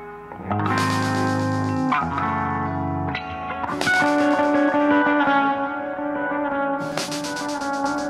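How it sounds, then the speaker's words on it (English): Distorted guitar-like tones repeat and smear into a long delay echo, each new chord layering over the lingering trails of earlier ones. "that's really the crazy delay that you hear that just kind of trails on forever and ever"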